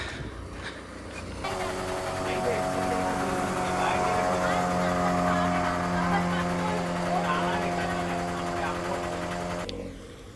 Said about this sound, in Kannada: ಅಲ್ಪಿಗೆ ಹೋಗೋಕ್ಕೆ ಬೋಟ್ ಬರ್ತೈತೆ